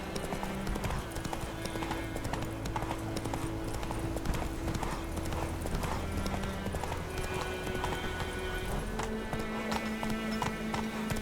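Roach the horse galloping in The Witcher 3, with steady rhythmic hoofbeats throughout under game music and brief voices.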